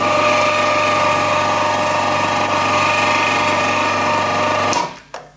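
A wood bandsaw converted for cutting metal, driven through a 60:1 gearbox and running too slow, gives a steady mechanical whirr and hum at close range for about five seconds, then cuts off abruptly and winds down.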